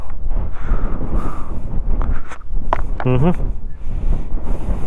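Strong mountaintop gusts on Mount Banoy, Batangas, buffet the microphone with a constant low rumble and roar, briefly joined by a short rising vocal sound in the middle.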